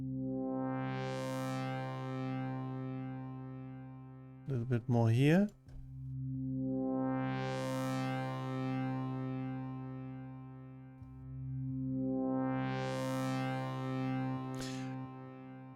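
A deep synth bass note swells and fades three times, each leaving a ringing metallic reverb tail. A voice briefly speaks between swells.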